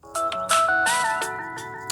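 A Samsung Galaxy S21 Plus 5G plays a melodic ringtone through its speaker, a short bright sequence of chiming tones, loud and close, with nothing else underneath.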